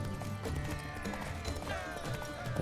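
Hooves clip-clop in a quick galloping rhythm as a horse runs in The Witcher 3 video game, steady and moderately close under game audio.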